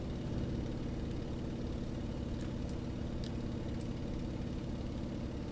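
An Antonov An-2 biplane's radial engine drones at climb power in Microsoft Flight Simulator, a loud, steady continuous roar with no talk.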